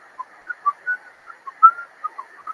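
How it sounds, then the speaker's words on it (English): A man whistles a tune as a recurring motif in a film, a thin, clear melody of short, separate notes at moderate volume with no other sound behind it. "the device of the movie is Peter Lorre whistling"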